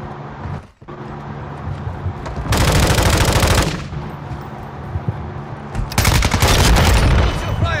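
Rapid automatic gunfire from a Call of Duty: Modern Warfare II battle, loud sustained bursts with booming impacts and a brief lull between them, a shouted voice heard briefly.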